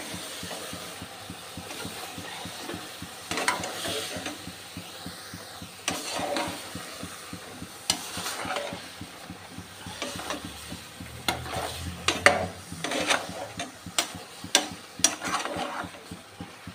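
A spoon scrapes and stirs bottle gourd in a cooking pan, a series of irregular clatters and scrapes over a soft background sizzle, close by and with no speech.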